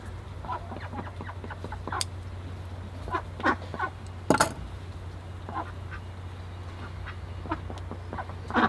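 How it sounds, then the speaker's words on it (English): Ducks quacking and clucking in short scattered bursts around a bonsai garden, moderately near, over a steady low hum, with no talk. "Ducks."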